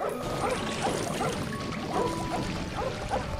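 A dog barks in the Lego Harry Potter video game, with a few short yips over a steady bed of game music and ambient effects.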